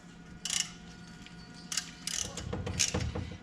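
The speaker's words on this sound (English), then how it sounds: "I'm gonna tighten up these bolts here" Small metric bolts tightened on a Saleen S281 Mustang supercharger intercooler, several short bursts of ratchet clicking separated by pauses, close and fairly quiet.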